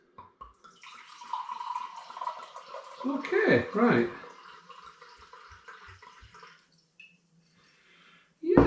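Homemade apple and lemon hard cider, a 9.7% turbo cider, is poured into a glass in a brief gurgling splash, quiet and close, surrounded by soft talk and small clinks.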